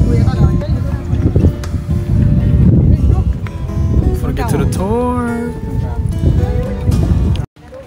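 Rumbling engine and wind noise of a moving tour boat in the Thousand Islands fill the clip, with voices talking and a few animal-like whinnies near the middle.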